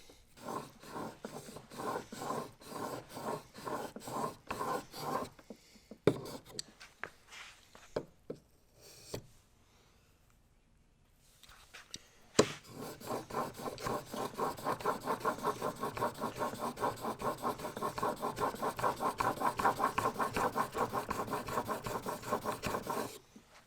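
Steel chisel rubbed back and forth on an 8000 grit sharpening stone, close and quiet, with rhythmic scraping strokes that pause briefly midway and then resume in a steadier, fuller run of strokes.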